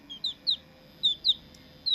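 Short, high peeps from a black chick hatched in an incubator, five or six bright chirps in quick irregular succession against a quiet background.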